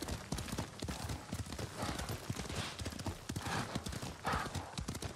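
Hooves of a horse clip-clop in a quick, steady rhythm as it is ridden in the samurai video game Ghost of Tsushima, close and continuous, with an occasional whinny over the gait.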